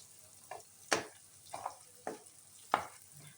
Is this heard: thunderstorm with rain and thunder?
no